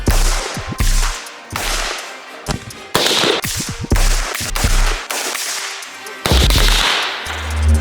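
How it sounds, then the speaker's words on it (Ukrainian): Loud gunshots from a military weapon crack out one after another at irregular intervals, sharp and close, with echoing tails between the blasts. "Постріл!"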